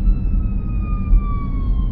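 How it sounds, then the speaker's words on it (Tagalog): A fire truck siren wails steadily with a slowly falling tone over low traffic rumble, continuous and fairly loud throughout. "May bumbero sa kabila."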